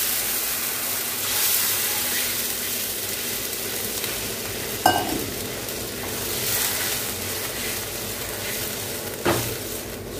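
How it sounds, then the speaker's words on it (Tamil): Rice-washing water poured into a pan of kuzhambu that sizzles and hisses steadily while being stirred, with a couple of sharper splashes and clatters standing out near the middle and end. "இப்போது கழனி பொய் சாரை ஊற்றிக்கலாம்."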